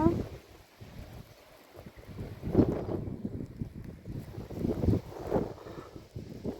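Wind gusts during outdoor snowfall in cold weather, blustering against the microphone in uneven surges, while someone talks over it close by.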